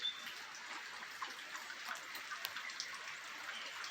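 Light rain patters steadily outside a chicken coop, a soft, even hiss of drops on surfaces with faint trickling and no talk.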